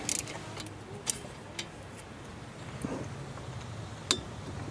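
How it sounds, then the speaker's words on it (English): A ratchet and wrench tighten front brake bolts on a Scion tC, giving faint, sparse metallic clicks and ticks at irregular intervals over a quiet background hiss. "we'll use the wrench and the ratchet to tighten the bolts"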